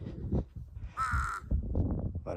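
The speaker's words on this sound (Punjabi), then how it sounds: "ਕਾਂ ਪੈਂਦੇ ਆ ਇੱਥੇ" Crows cawing along the Triund trek near McLeod Ganj in the Himalayas, a clear run of harsh calls in the middle of the clip over a low rumble of outdoor background noise.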